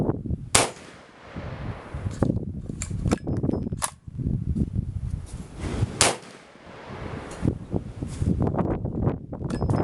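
A 450 Bushmaster rifle fires Hornady 240gr XTP handloads with N110 powder at an outdoor range, several sharp, loud reports at irregular intervals with quieter rustling and handling noise between shots.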